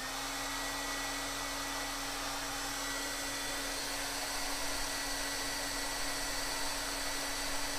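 A hair dryer blowing on an art journal page, a steady, loud whooshing roar with a constant motor hum that runs unbroken throughout, with no voices.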